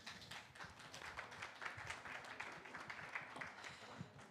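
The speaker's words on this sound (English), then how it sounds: "Applause," Audience applause at a panel event on organizational change, a dense, steady patter of many hands clapping filling the room with no voices over it.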